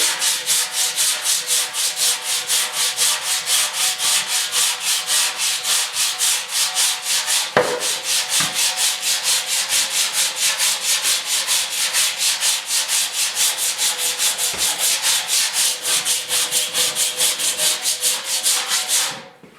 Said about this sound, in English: The sanding this stuff when it's all set is pretty tough